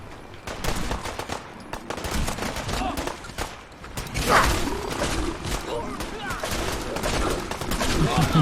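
Gunfire and grenade blasts from the Fallout 4 video game form a dense, loud stream of rapid shots and bursts that grows heavier toward the end, with in-game voices shouting over the combat.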